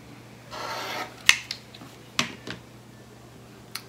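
Quilt fabric is cut along the edge of a ruler: a brief, close swishing cut, then several crisp clicks and taps as the tools are handled, with no talking.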